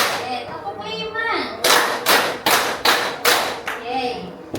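Five sharp, loud hand claps in an even rhythm from a classroom clapping game, following a voice and children's voices that lead into them.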